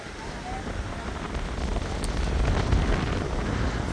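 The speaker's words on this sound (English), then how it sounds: "the wind is extremely strong" Strong wind at Pensacola Beach on a sunny day, a continuous loud rushing roar buffeting the microphone and growing slightly stronger over a few seconds, with no voice heard.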